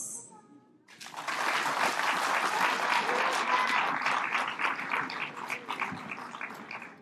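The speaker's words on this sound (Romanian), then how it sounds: "V-am zis eu că aveți de ce aplauda." Audience applause fills a hall at a 2017 Christmas carol concert in Imola. Loud, dense clapping starts abruptly after a brief quiet moment, holds steady for several seconds, then begins to thin out.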